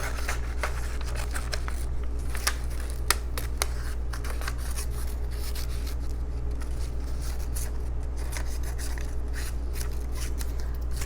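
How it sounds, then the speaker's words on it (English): Scissors snip through paper during a fifth-grade art lesson, giving a series of soft, irregular crisp cuts over a constant low electrical hum. "I'm going to cut and keep cutting"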